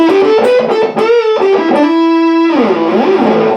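A Squier Bullet Mustang electric guitar with heavy distortion plays a melodic phrase with bends and sustained notes, loud and continuous with no voices.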